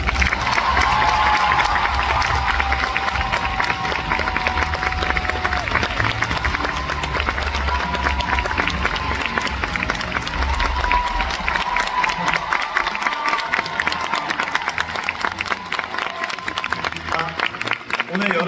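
An audience at a live dance stage performance curtain call in Busan applauds and cheers continuously, a dense wash of clapping and voices, loud and close, fading slightly toward the end.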